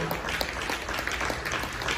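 Congregation clapping during a Spanish-language church sermon, a continuous wash of many hands with a few louder individual claps standing out.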